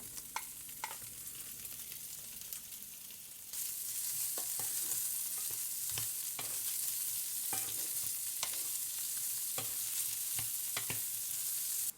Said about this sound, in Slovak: Na pánvici nechám vyškvariť iberijskú aj oravskú slaninu.